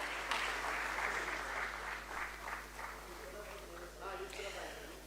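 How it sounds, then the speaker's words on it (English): Audience applause at a ceremony marking forty years of the SENSEX stock index, a fairly quiet spread of clapping with some voices and a constant low electrical hum beneath. "I would request you all to please have a big round of applause"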